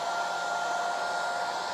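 A hair dryer blows steadily and loudly up close, drying paint on a primitive house stencil, a continuous even whirring rush with no voices.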